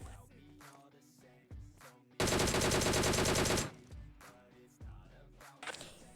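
Gunfire in the battle royale game BGMI: a sustained automatic burst of about a second and a half, loud and close, with scattered fainter shots and game sounds before and after.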